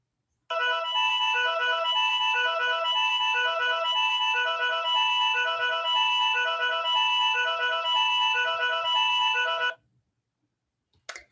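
A 1966 tape piece: looped melodica phrases repeat in a steady, overlapping pattern. The sound is loud and bright, plays alone without talk, and stops abruptly near the end.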